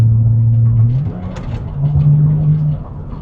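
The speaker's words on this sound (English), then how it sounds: "That just feels so good to downshift in here." Porsche 996 Turbo downshifting and revving, its loud, deep engine note dipping as the gear changes, then rising again in a smooth, sustained rev.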